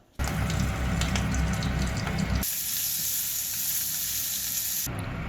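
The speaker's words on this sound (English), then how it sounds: "Then we're gonna cook some roast pork wiener." Roast pork wieners frying in a pan give off a loud, steady sizzle throughout, with a brighter, hissier burst in the middle stretch before the dense crackle returns.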